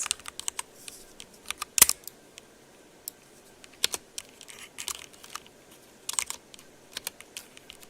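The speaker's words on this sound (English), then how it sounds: "It is so hard to type accurately like this." A computer keyboard is tapped in quiet, irregular bursts of crisp clicks, with a few sharper keystrokes standing out and soft pauses between the runs.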